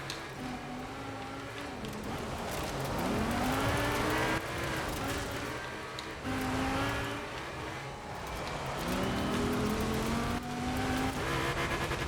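A black E-Type Jaguar races in a video game on a cliffside track, its engine revving up and down through gear changes in repeated rising sweeps, with occasional tire squeal and fairly loud, close engine tone throughout.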